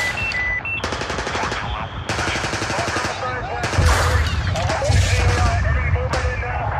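Artillery fire from three guns firing rounds, heard as loud sharp bursts of gunfire in irregular clusters, with radio-style voices talking over the shots.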